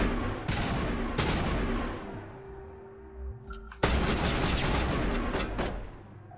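Gunfire from the video game Mass Effect Legendary Edition: several loud, sharp shots and bursts crack up close, with a brief lull before a heavy blast and renewed sustained firing.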